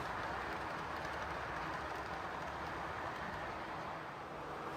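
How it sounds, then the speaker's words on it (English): An O scale model train runs along a layout past a junction and yard, giving off a steady, soft rolling rumble and whir that stays constant throughout. "The train will pass what I called Steptoe Junction previously."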